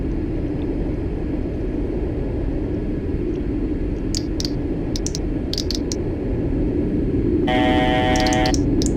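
Inside the cockpit of a Citation S550 jet on descent with the speed brake out, a loud, constant airframe rumble and vibration, with scattered clicks and a brief buzzing tone near the end.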